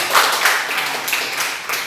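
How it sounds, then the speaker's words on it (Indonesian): A group, apparently a class learning about faith in angels, claps hands together in a brief burst of quick, fairly close clapping. "tepuk tangan untuk kita semua"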